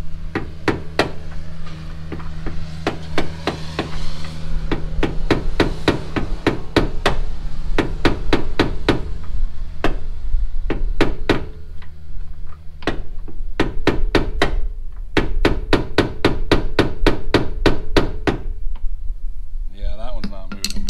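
Metal punch struck repeatedly with a hammer to drive door hinge pins out of a two-door Chevrolet Tahoe, sharp close blows coming in rapid bursts with short pauses, with some talk in the background.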